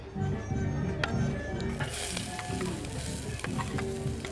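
Onion and bell pepper sizzling in a small amount of good-quality oil, a steady close crackle and hiss with occasional stirring scrapes, and a voice speaking faintly underneath.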